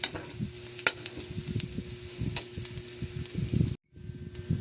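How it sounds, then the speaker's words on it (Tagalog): Garlic and onion sauté in a pan, giving a soft crackling sizzle with scattered pops and stirring scrapes, close but quiet, cut briefly near the end before resuming. "ginisa natin yung bawang"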